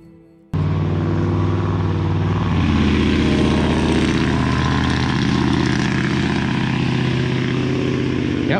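Loud vehicle with no muffler roars past at about 25 mph, a sudden, sustained, throaty engine drone that fills most of the clip.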